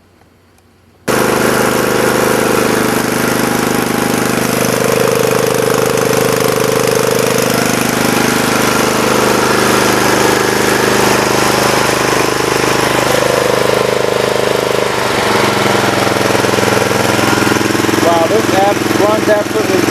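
A Snapper rear-engine riding mower, re-powered with a Briggs and Stratton engine and running on Amsoil, starts after a second of quiet and then runs loud and close, a steady idling drone that holds throughout.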